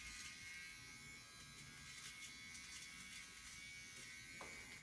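A Capsule nose hair trimmer runs with a steady, close electric buzz that holds evenly for several seconds, then cuts off abruptly at the end as it is switched off.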